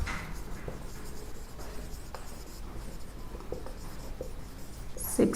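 Chalk or marker scratching out numbers on a classroom board during a maths lesson, a steady run of soft strokes and taps with a sharper knock near the end, with no voices.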